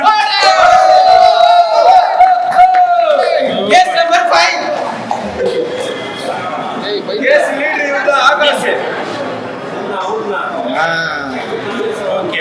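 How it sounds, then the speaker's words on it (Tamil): A crowd at a birthday cake cutting cheers and chatters, with loud whoops and calls early on, then a busy mix of voices and some clapping under ongoing talk. "கைதட்டுங்க"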